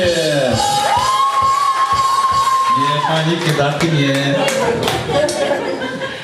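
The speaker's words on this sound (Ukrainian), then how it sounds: "Файно, оплески!" Wedding guests clap and cheer in a lively crowd, with whoops and laughter rising around a host's loud, continuous talking and a sustained sung or shouted tone early on.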